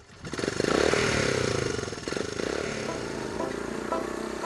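Trail 90 motorcycle with a small single-cylinder engine of about 7 horsepower, knobby tires, puttering close by with a raspy rattling idle and a short rev near the start.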